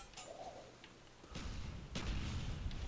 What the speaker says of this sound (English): Flashbangs and everything.